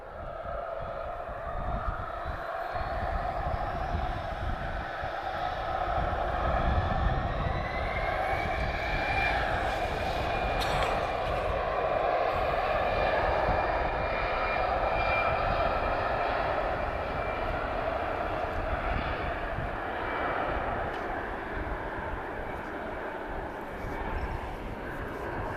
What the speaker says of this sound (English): My favourite bizjet, Global Express family.